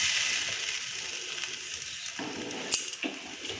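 A pea-stuffed paratha sits on a hot tawa giving off a steady, close frying hiss, with a few light clinks and taps of a utensil toward the end and no talk.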